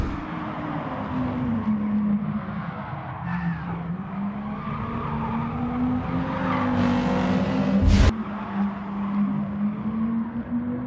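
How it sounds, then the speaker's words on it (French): An Audi race car in Gran Turismo at Suzuka Circuit braking very hard, its tires skidding in a long sustained squeal over the droning engine, with a sharp burst near the end. "KSM qui est large, qui fait freiner très fort l'Audi de Vince"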